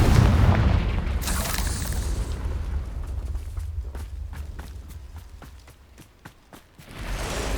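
Confringo fire spell blast in Hogwarts Legacy in the Forbidden Forest, a heavy boom at the start followed by a rumbling tail and a run of quick footsteps, another surge rising at the end.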